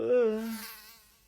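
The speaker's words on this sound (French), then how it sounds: "Un moustique?" A single mosquito buzzes close by in a short, thin, high whine that drops in pitch and fades within about a second.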